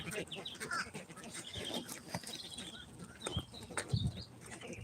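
Farm birds raised for meat chickens chatter and squawk faintly in a barnyard, with scattered short calls and rustling, some flapping wings and a quiet voice in the background.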